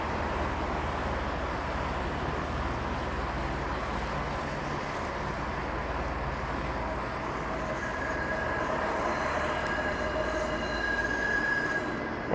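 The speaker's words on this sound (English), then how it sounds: "And it's a 503 Kingston Road streetcar." A 503 Kingston Road streetcar passes along King Street East in downtown Toronto, a steady rolling rumble on the rails with high wheel squeal rising near the end, under continuous street noise and no talking.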